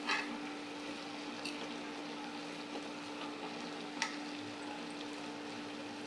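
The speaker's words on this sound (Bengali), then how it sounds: "দুইটা ডিম দিয়া কহি ভাজি করলাম" Eggs fry with kohi in a pan, seasoned with roasted cumin powder, giving a faint, steady sizzle with a few scattered crackles and pops, without talk.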